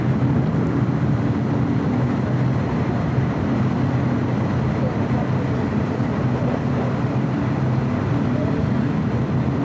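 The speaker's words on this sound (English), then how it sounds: "The next takeoff on 25 right, Air Tahiti Nui, Flight 101." An Air Tahiti Nui Boeing 787-9 Dreamliner taking off from runway 25 right at LAX, heard as a steady, broad low jet engine roar that holds constant throughout at a distance.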